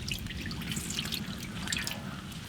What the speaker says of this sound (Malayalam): നല്ല ശുദ്ധമായ വെളിച്ചെണ്ണ ആദ്യം ഒഴിക്കാം.